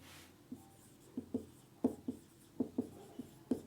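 Chalk or marker strokes on a classroom board during a Class 12 physics lesson, a series of short, sharp taps and scrapes in an irregular rhythm, close and fairly quiet, with no talk.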